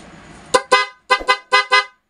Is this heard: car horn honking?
yes